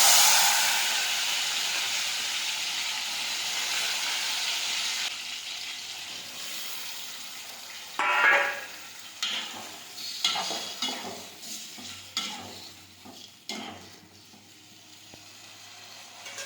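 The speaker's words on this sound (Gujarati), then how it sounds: "હવે આપણે ટમેટી છે તેને ચડવા દઈશું" Tomatoes sizzle in hot oil with mustard seeds and cumin in a pan for sev tameta curry, starting with a loud steady hiss that fades as intermittent stirring scrapes and clinks follow.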